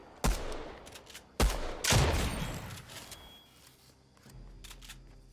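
Fortnite video game gunfire: three sharp, loud shots ring out in quick succession near the start, the last one followed by a rattling tail, then the sound fades into quieter game ambience.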